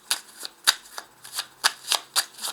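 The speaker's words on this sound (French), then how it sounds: "je vais rajouter ici un petit jeu de 32 cartes" A small 32-card deck being shuffled, giving a quick run of crisp riffling bursts at a steady rhythm, close and fairly quiet, with no voices.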